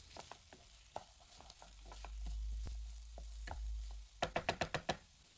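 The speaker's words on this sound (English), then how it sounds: "And we will be frying this until they turn slightly golden." Chopped onions frying in refined oil in a pan, a faint sizzle under scattered spoon scrapes and knocks, ending in a quick run of sharp taps.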